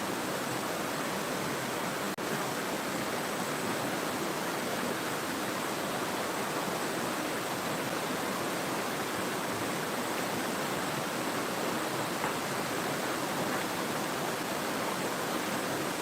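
A mountain valley stream at Ssanggok Valley in Goesan rushes steadily, a dense, even broadband wash of flowing water heard close and loud with no pauses or voices.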